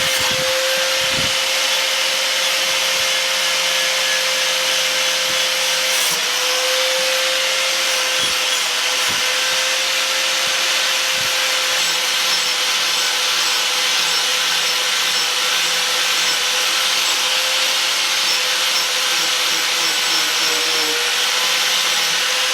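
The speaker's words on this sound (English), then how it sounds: "So I'm going to use an angle grinder and a Dremel to try and clean these all up." An angle grinder whines steadily and loudly against old knife blades, with a constant high-pitched motor tone and harsh abrasive grinding that runs without a break.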